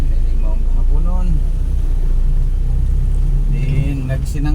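Road traffic builds up, with a continuous low engine rumble of cars under someone talking, and a louder vehicle sound swelling in toward the end.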